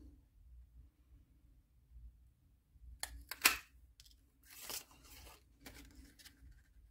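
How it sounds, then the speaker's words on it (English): A few quick snips and a rustling tear of paper come close up against a quiet background, with soft short bursts between pauses. "If not, just give them a quick cut with your scissors."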